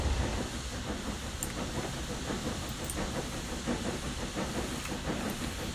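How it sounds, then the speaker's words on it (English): An SDJR 7F steam locomotive in Train Sim Classic climbs a steep 1-in-50 gradient, its hissing steam and rumbling chuff blending into a dense, continuous wash of noise with faint periodic beats and occasional high clinks. "You can hear the loco picking up the slack."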